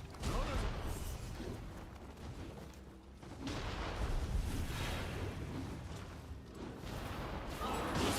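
Cannon fire from a ranged build in a video game. Heavy booming blasts with crashing impacts arrive in bursts near the start, around the middle and at the end over a continuous rumbling game soundscape.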